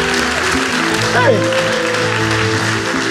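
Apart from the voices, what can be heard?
church congregation applause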